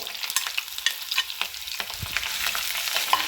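Ginger and garlic fry in hot oil with mustard seeds and fenugreek for a fish curry. A continuous close sizzle is broken by frequent crackling pops and scraping stirs, with nobody talking.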